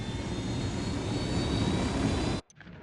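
An aircraft engine roars during flight in the video game Ghost Recon Wildlands, a loud, steady drone that cuts off abruptly near the end, leaving only faint ambience.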